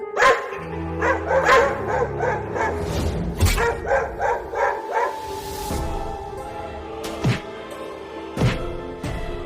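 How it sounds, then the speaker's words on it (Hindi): Cartoon dogs bark repeatedly in front of a wooden house, a loud run of sharp, rhythmic woofs and yips followed by a few isolated barks, with no talking. "वो कुत्ते उस लकड़ी के घर के सामने भौंक रहे हैं।"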